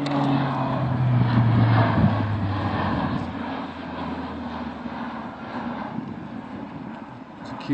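A Q400 turboprop airliner drones steadily, with a loud engine hum and a low tonal whine that falls in pitch before fading slightly into broad rushing noise.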